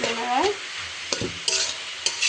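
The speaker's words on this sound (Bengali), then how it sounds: "সবগুলো শাক একসাথে করে শুটকিটা দিয়ে ভাজি করতেছি" Mixed leafy greens, radish, spinach and amaranth, fried with dried fish in a pan, giving a soft steady sizzle broken by several sharp clanks and scrapes of a spoon stirring against the pan.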